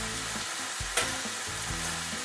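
Food being moved around a pan in olive oil gives a quiet steady sizzle, with one sharp scrape of the spatula partway through and no voices.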